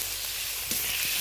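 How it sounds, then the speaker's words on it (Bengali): Chopped tomato drops into frying onions and chillies, bringing a loud, close, continuous sizzle with a couple of soft stirring knocks. "এই পর্যায়ে আমি কেটে রাখাটা টমেটোটা দিয়ে দিলাম।"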